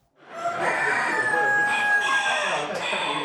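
A rooster at a North vs South poultry show crows once in a long, loud drawn-out call, close by, with faint background chatter from the show hall.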